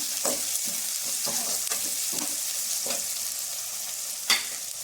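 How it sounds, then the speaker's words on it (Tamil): Curry leaves and green chillies sauté in a pan for a fish curry. Oil sizzles steadily while a spoon scrapes and stirs in a loose, repeating rhythm, ending in one sharper knock. "கருவேப்பிலை, பச்சை மிளகாய் சேர்த்துக்கலாம். சேர்த்து நல்லா வதக்கலாம்."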